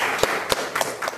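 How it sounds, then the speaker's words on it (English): A few scattered, separate claps from a lecture audience at Kwame Nkrumah University of Science & Technology in Ghana, sparse and irregular over a steady room hum. "You're going to clap for Mr."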